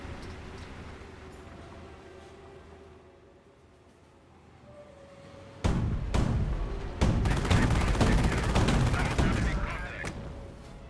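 A Company of Heroes battle erupts into loud, sustained gunfire, with sharp bursts and rapid crackling volleys, after a quieter stretch with a voice speaking over low battlefield rumble.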